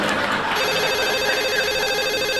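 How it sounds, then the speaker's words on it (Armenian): A work telephone in an office rings with a loud, steady electronic trill that carries on without a break. Earlier a voice is heard before the ring starts. "աշխատանքային հեռախոսին զանգ է գալիս"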